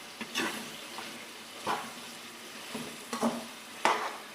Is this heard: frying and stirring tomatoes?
yes